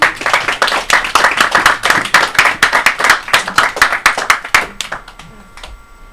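Rhythmic, fairly close clapping from an audience at a lecture, a quick series of sharp claps in steady succession for about five seconds before trailing off into quiet.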